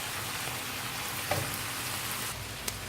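Chicken and mushrooms seasoned with cumin and sweet paprika sizzle steadily in a pan, with a soft hiss throughout and a couple of brief clinks as the mixture is stirred.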